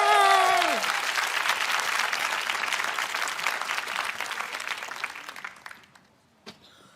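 A crowd at a live climate event applauds loudly, the clapping starting under a brief spoken word, holding steady for several seconds and then fading out, with one late lone clap.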